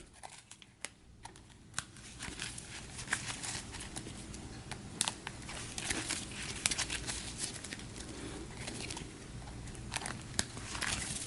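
Fairly new plastic-sleeved game cards for a GI Joe deck-building game are shuffled up close, giving a dense, steady crinkling and riffling patter with sharp clicks throughout, no talking.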